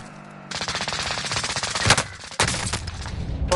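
Heavy automatic gunfire crackles through a multiplayer shooter, loud and continuous, with two sharper bursts standing out midway and a brief dip before the firing resumes.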